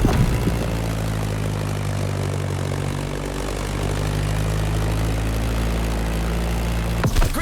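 Staggerwing propeller biplane droning steadily in flight in The Crew Motorfest, a loud continuous engine hum with strong low harmonic bands holding for several seconds before a brief disturbance at the end.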